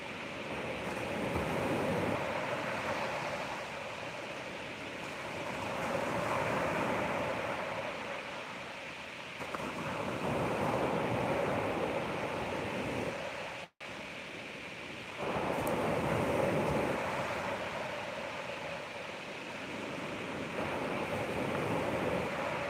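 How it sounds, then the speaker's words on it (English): Steady ocean surf rolls onto a beach in broad, rising and falling swells, with a continuous wash of breaking waves and some wind noise and no voices. "listen to the sounds of those waves for one more minute"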